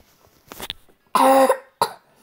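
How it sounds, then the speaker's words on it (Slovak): A single loud, harsh cough bursts out close by, followed moments later by a shorter second cough, with quieter throat sounds before. "Ide kašlem."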